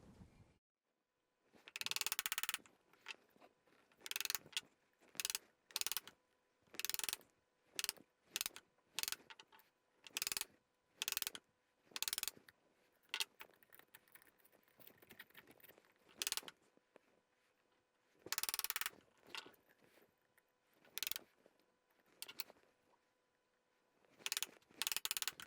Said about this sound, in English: use some chisels and clean these walls back to that marking gauge line